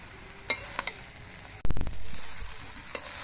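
Rice, dal and winter vegetables are sautéed in a kadai for mixed khichuri. A few sharp spatula clinks against the metal lead into a loud stirring scrape, then a soft, fading sizzle.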